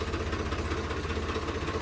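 An 855 tractor engine idles nearby with a steady, low, rhythmic throb, alone and without talk.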